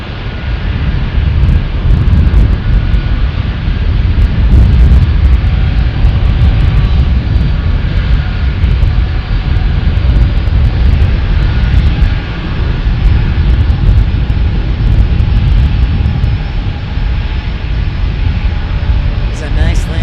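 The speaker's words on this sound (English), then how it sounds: "It's a nice landing there by Southwest." Southwest airliner landing on the single busy runway at San Diego airport, a steady loud engine roar held close for the whole stretch, with wind rumble and talk over it.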